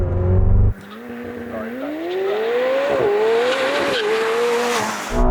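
A McLaren 750S and a Lamborghini Revuelto launch together in a drag race, with a brief loud burst followed by a sustained engine roar climbing steadily in pitch through upshifts, close and dominant throughout.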